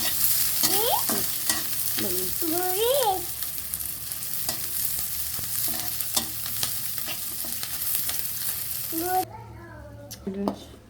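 Food for chitoi pitha fries lightly in a pan, with a constant soft sizzle under a spoon or spatula scraping and stirring, and a voice talking over it throughout.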